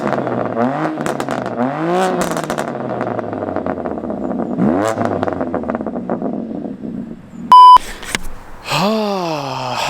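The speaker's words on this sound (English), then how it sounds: "Last few revs for the channel." A BMW M2 Competition engine revs hard several times, rising and falling sharply with crackles on the overrun, interrupted briefly by a loud electronic beep.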